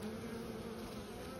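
Honeybees fly back to their hive, a steady close-up buzzing drone of many insects that holds evenly throughout with no voices.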